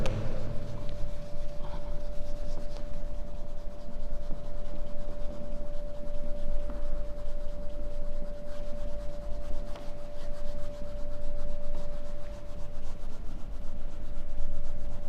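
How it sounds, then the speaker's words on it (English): A classroom board being rubbed clean with steady, continuous scrubbing strokes close by, a persistent gritty rasp lasting throughout with a faint constant hum beneath. "Again I have to rub the board and it is very typical to rub the board here."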